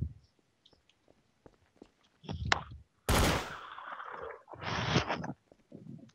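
Gunfire in Garry's Mod: scattered faint clicks, then a sudden loud blast followed by a sustained burst of firing and a further rattling volley, with some quieter noises around them.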